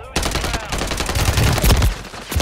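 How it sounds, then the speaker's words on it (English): Rapid bursts of automatic gunfire ring out in a shooter video game, loud and close, with dense overlapping shots and impacts running continuously across the moment without a pause. "There's another one shooting me through the window."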